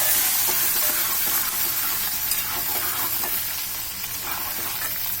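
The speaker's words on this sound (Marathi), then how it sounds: "आता हे सर्व मिश्रण मिक्स करून घ्यायचं" Paste and turmeric stirred together in a hot pan for Maharashtrian drumstick dal, a steady loud sizzle and hiss with scraping stirs throughout and no talking.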